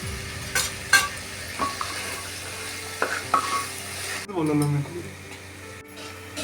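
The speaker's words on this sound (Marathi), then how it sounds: "थोडा मसाला टाकूया आपण एक दोन तमालपत्र चक्रफूल लवण दोन चार काळे मिरी दोन चार लवण" Whole spices (bay leaf, star anise, cloves and black pepper) sizzle in a pan for Maharashtrian masala bhaat, a close crackling fry with a few sharp spatula taps, then a louder burst of sizzle as the pan is stirred near the end.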